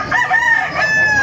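A rooster crows once in a short, clear, sustained cock-a-doodle-doo at the Bocaue market, heard close and loud over faint background bustle.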